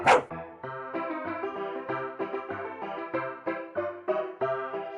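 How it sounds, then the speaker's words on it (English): A dog barks in Dayshift at Freddy's 3, an opening yelp followed by a steady run of tonal, rhythmic barks and yips, close and clear, with no talking over them. "We have a dog!"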